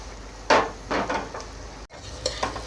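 Onion and tomato sizzle in a pan as a utensil stirs them while cooking black mutton, with several scraping strokes over a steady frying hiss and a brief break near the end.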